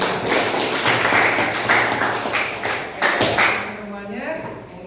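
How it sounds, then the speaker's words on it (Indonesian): A classroom of students claps during a school coding and artificial intelligence lesson, a dense burst of hand claps for several seconds that fades out as a voice begins speaking near the end. "Oke, tepuk tangan untuk kita"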